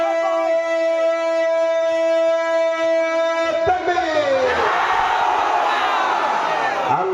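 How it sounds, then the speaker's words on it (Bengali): A large crowd at an outdoor Islamic sermon gathering in Shailkupa, Jhenaidah, roars a loud takbir chant in unison, rising suddenly after a few seconds of amplified tonal calling. "সমস্ত শক্তিকে উজাড় করে তাকবীর দিবেন।"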